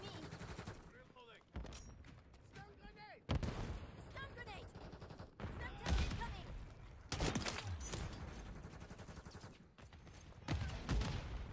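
Rapid gunfire and repeated grenade blasts in a Call of Duty MW3 match, with several sharp, loud bursts and booms packed close together over about ten seconds, with a voice briefly talking in between.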